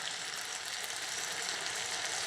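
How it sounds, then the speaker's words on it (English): Rice grains fry in a paella pan, a steady faint hissing sizzle with tiny pops, continuous and alone without talk. "you can hear the rice grains frying. It pops a little bit."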